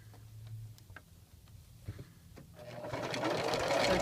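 A sewing machine runs a straight stitch along a 5/8-inch seam in lightweight cotton, with a few faint ticks at first and then a steady, rising mechanical whir toward the end.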